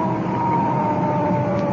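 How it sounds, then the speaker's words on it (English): A police car siren from a 1955 radio drama wails in a steady, sustained tone, loud and close with a low rumble beneath it. "Cut in our siren."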